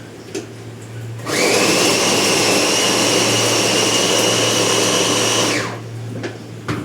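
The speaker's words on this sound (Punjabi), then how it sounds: "ਇਹਨੂੰ ਗ੍ਰਾਈਂਡ ਕਰਕੇ ਨਾ ਪਹਿਲਾਂ ਸਭ ਤੋਂ ਗ੍ਰਾਈਂਡ ਕਰ ਲਈਏ ਆਪਾਂ" A mixer grinder whirs at high speed for about four seconds, crushing onion, ginger and spices for dal, with a steady loud motor whine that starts abruptly and winds down at the end, no talking over it.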